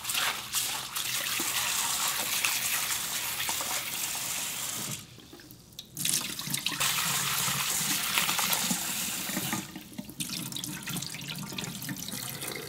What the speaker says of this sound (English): Just rinse a couple of times until the water is clear.